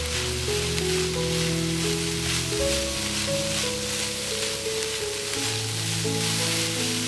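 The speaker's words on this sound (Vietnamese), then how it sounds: "Tiếp theo mình cho bắp cải và cà rốt vào. Mình xào khoảng tầm 1 phút cho rau ngót bớt." Cabbage and carrot stir-frying in a pan, a loud continuous sizzle with a faint stirring texture, close and steady throughout, with no one speaking.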